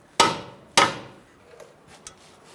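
Two sharp metallic hammer taps driving a strut bolt through the front strut mount of a 2000-2007 Ford Taurus, close and loud, followed by a couple of faint clinks.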